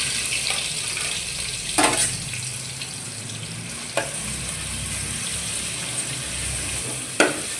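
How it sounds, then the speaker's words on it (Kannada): Onion tempering fries in hot oil with fenugreek seeds in a pan for fish sambar, a steady bright sizzle broken by a few sharp clinks of a stirring spoon, with no talking. "ಒಂದು ಸಣ್ಣದಾದ ಈರುಳ್ಳಿ ಒಗ್ಗರಣೆ"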